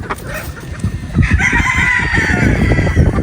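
Chickens and pullets clucking and a rooster crowing close by in Batangas, a loud drawn-out call rising over steady farmyard clucks.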